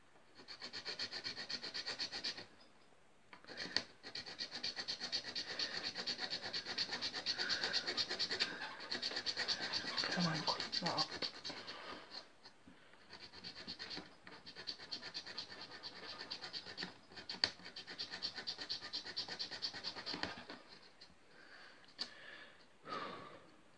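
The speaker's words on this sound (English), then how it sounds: "I'm actually going to switch filing devices" A file rasps against a Les Paul Custom guitar in repeated close scraping strokes that come in long bursts with short pauses, faint and with no voices.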